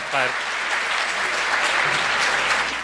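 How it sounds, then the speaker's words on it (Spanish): An audience applauds a priest with steady, dense clapping that fills the whole stretch, while a voice briefly speaks over the start. "Vamos a dar un aplauso al Padre Wilman, que nos va a dar su segunda charla."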